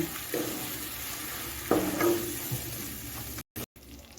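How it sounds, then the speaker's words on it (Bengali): Ground spices, Kashmiri chili powder and turmeric, are sautéed in a pan over medium heat with a soft, even sizzle, a couple of louder scraping stirs partway through and brief dropouts near the end. "এখন আমি গ্যাসটা মিডিয়ামে রেখে তিনের থেকে চার মিনিট একটু কষিয়ে নেব"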